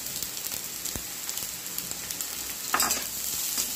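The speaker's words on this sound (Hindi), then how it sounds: "इसे भी हम 5 मिनट अच्छे से भूनेंगे" Chopped boiled eggs and green vegetables fry in a pan, a constant close sizzle with scattered crackles and a louder stirring scrape near the end, no talking.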